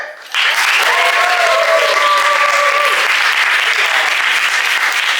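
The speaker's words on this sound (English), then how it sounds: "give each other a round of applause as we head on this adventure together" Comedy show audience at an improv showcase breaking into loud, sustained applause that starts abruptly and holds steady, with some voices and a brief whistle-like tone mixed in.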